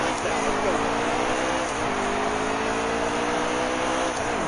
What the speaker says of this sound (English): You're going to hear me on and off the throttle a lot.